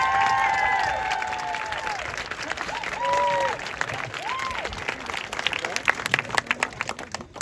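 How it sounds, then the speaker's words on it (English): A graduation audience for the class of 2021 claps and cheers in a hall, a sustained round of applause with scattered whoops that tapers off, while a voice talks over part of it. "Let's have a quick round of applause to congratulate the General Gong class of 2021."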